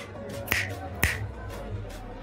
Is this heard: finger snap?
yes